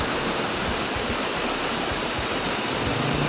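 River current at Brgy. Duruarog, Diadi, Nueva Vizcaya rushes in a dense, steady broadband roar, close and loud from start to finish with no voices.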